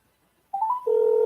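A phone line tone plays while a call is being returned: a brief rising tone, then a steady, clear electronic tone that holds close and loud after a moment of silence.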